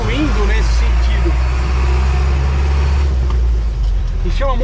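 Steady, loud low diesel rumble from an older Toyota Bandeirante pickup engine running continuously, with a few brief tonal chirps at the start and end.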